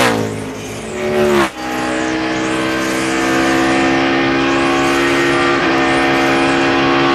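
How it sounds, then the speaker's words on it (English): A NASCAR race car at the 2002 Pennsylvania 500 roars loudly down the front straightaway, its engine pitch dropping sharply at an upshift into overdrive before settling into a steady, sustained high-revving drone. "Ricky Rudd shift when he goes down the front straightaway, going into overdrive"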